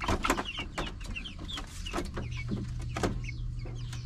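Chickens cluck in short, irregular bursts close by, several birds in a backyard flock calling over one another with sharp repeated clucks and no talking.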